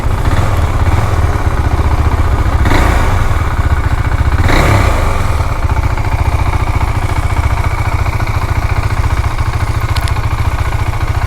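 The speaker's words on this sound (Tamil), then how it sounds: "செகண்ட் கியரில் போயிட்டு இருக்கும்போது ஒரு மாதிரி எக்ஸாஸ்ட் வந்து டப்புன்னு வெடித்து" A motorcycle engine runs loud and close in a steady throbbing idle, with a couple of sharp exhaust pops cracking through early on.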